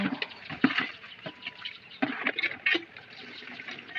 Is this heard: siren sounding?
no